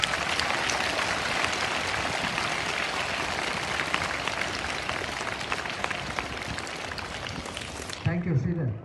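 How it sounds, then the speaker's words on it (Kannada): An audience at a special children's program in St. Joseph's High School, Bannimantap, gives dense, sustained applause that cuts off near the end as a voice briefly speaks. "ಮತ್ತೊಮ್ಮೆ ಜೋರಾದ ಚಪ್ಪಾಳೆ"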